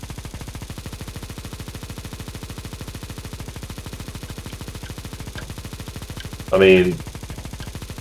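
A Negev machine gun fires a long, rapid, sustained burst in a first-person shooter game, with evenly spaced loud shots running nearly the whole time and a brief interjection from a man near the end.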